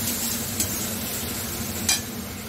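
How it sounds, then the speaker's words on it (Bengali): Spices being fried and stirred in a pan as a tempering for khichuri, a steady soft sizzle under a constant low kitchen hum, with two brief scraping clinks of a spoon against the pan. "এই পাশে আমি ফোড়নের জন্য এই যে মশলাটা আমি কষিয়ে নিচ্ছি"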